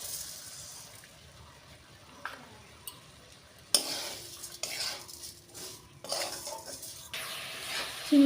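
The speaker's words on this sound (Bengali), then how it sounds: "চিনিটা দিয়ে নেড়ে চেড়ে আরও কিছুক্ষণ ফুটিয়ে নেব" Star fruit (kamranga) with sugar simmering in a pot, stirred with a utensil: soft bubbling and scraping, intermittent clinks of spoon against the pot, gentle and close with no talking.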